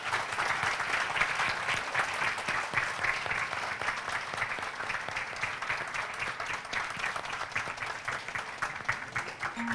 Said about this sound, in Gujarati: આ બધી તાળીઓ જે પડે છે ને તે આપણા જૂની રંગભૂમિના કલાકારોને પડે છે.